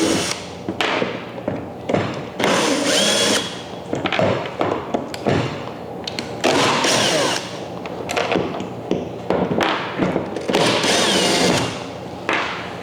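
Loud power tool, likely a drill or driver, backing out the four-bolt motor mount at the back of a Native Watercraft kayak fitted with a Newport NK300 electric motor, in repeated close bursts with thuds between runs.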